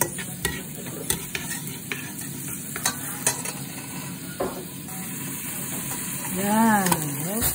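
Shrimp, tomato, onion and garlic sizzle in a hot pan, a steady close frying hiss broken by sharp clinks and scrapes of stirring, with a faint voice rising near the end.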